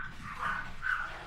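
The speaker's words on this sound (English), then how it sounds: "excuse my dogs" A couple of muffled dog barks, a short pair of yaps from another room, fairly faint.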